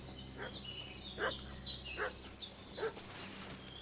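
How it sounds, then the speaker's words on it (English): A dog in Kingdom Come Deliverance 2 barks repeatedly in sharp, evenly spaced yelps, faint and somewhat distant over a low steady game ambience. "What's that dog making such a fuss about?"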